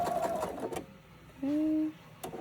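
Sewing machine backstitching on a drawstring backpack gives short faint mechanical stitching bursts, then one clear whirring run, fairly quiet and close.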